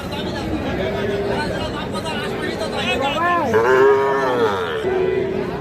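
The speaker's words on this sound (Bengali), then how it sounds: "একটা সার বাছুর শাহিওয়াল জাতের" A seven-month-old Sahiwal bull calf moos loudly and close by, giving a couple of long, drawn-out calls over a crowd of people chattering and talking nearby.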